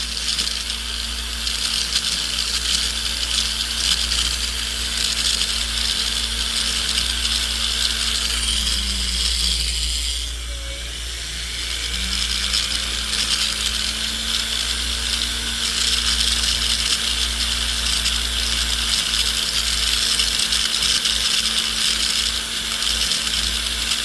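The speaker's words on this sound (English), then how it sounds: "With our silicone wheel, that basically smooths it out, gets a lot of the deep scratches out" Silicone polishing wheel smoothing the deep scratches out of a white gold ring during resizing: a steady loud motor whine and hiss that dips mid-way as the ring is handled, then resumes.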